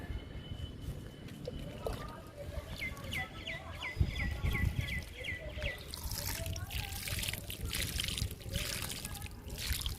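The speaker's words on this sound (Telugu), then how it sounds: "కాకరపాదుకి ఇచ్చేద్దాము వాటర్." Water trickles and splashes steadily onto potted plants, with a brief louder gush partway through, while a person talks nearby and birds chirp faintly in the background.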